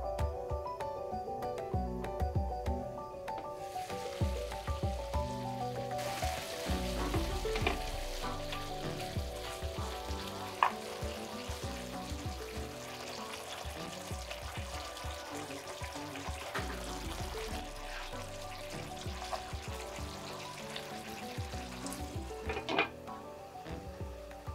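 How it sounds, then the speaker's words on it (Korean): A covered pot of pork belly and tofu braise bubbles over high heat, giving a continuous low sizzling and bubbling texture with occasional faint clinks, steady and fairly quiet throughout. "고기는 양념과 살짝 버무려 물에 잠기게 하고 뚜껑을 덮어 센 불에 끓여준다."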